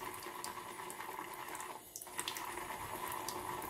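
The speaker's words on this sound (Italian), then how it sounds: "adesso aggiungo un po' d'acqua al pennello" Water runs from a tap onto a shaving brush used with shaving soap. It makes a steady, close splashing trickle with a short dip partway through. There is no talk.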